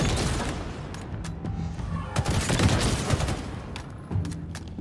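Rocket launcher fire from Halo Infinite, heard as loud, dense bursts and booms amid continuous combat noise, with sharp impacts spread across the clip.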